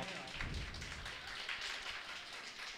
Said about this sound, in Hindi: अब तमाम मेहमान के लिए तालियां बजाते रहें आप।